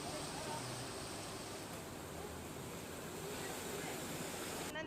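Rushing monsoon flood water of the Rami river in rural Chhota Udepur, a dense continuous roar of turbulent flow heard up close and steady throughout, with no voices.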